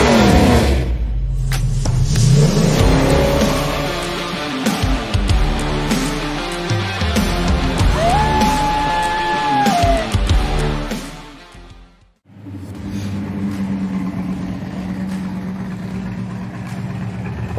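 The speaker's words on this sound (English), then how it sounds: "Great sounding dual exhaust" A 1970 Oldsmobile 442's V8 roars loudly through dual exhaust, revving up and holding high, then dropping off sharply before settling into a deep idle rumble.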